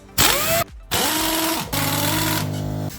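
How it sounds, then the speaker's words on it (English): A pneumatic air gun works 13mm shock bolts on a Jeep TJ, firing in three loud, close whirring bursts separated by brief pauses, the last one longer and steady. "We're using an air gun."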